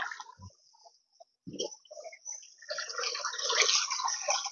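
River water flows and splashes nearby, faint at first and then growing into a steady gurgling rush, with a couple of soft thuds early on.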